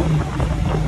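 A 2000 BMW 323i with its 2.5L inline-six breathing through 3-inch straight-pipe exhaust, giving a brief, loud, steady deep rumble up close with no speech.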